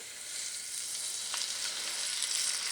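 Chicken frying in a hot cast iron pan with bacon grease, a steady bright sizzle with crackling pops, close and continuous.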